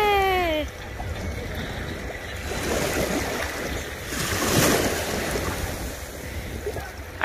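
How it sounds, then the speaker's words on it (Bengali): Atlantic Ocean waves wash onto the shore in a broad, rolling surge that swells and recedes, with wind buffeting the microphone, moderately loud and close. "আটলান্টিক মহাসাগরের পানি পায়ে লাগাচ্ছি।"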